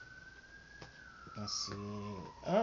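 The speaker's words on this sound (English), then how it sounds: "Sorry about the sirens, guys. They said someone was in trouble." A siren passing outside sweeps slowly downward across the clip, steady and moderately loud, while a person speaks briefly over it near the end.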